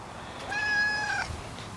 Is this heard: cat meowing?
yes